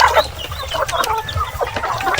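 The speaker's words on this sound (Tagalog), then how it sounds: "mga itik na kalabas" Poultry clucking outside on a small farm, a busy chorus of overlapping clucks and short calls, fairly close and continuous with no talking.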